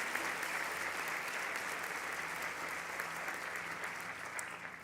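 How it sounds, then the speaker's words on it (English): Sustained applause from a large audience at a nursing school hooding ceremony, a soft, distant wash of many hands clapping evenly without pause. "One more round of applause"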